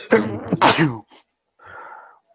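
A single sharp sneeze bursts out mid-conversation during a math session, followed by a brief pause and a short spoken reply afterward.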